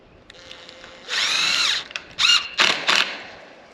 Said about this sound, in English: I'm gonna get the screws and screw it down real quick